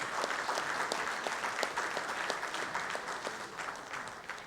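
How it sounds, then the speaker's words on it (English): Members of an audience applaud at a launch event, a steady wash of many hands clapping, fairly faint and distant, sustained the whole time with no voices on top. "I would request our members to give a round of applause."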